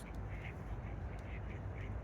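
Ducks quack repeatedly at a lake at night, a series of short calls at a moderate distance over a steady low rumble of background noise.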